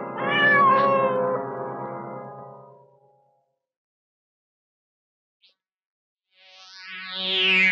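A cat meows loudly and drawn out up close, falls silent, then lets out another rising meow at the end, with no talking over it.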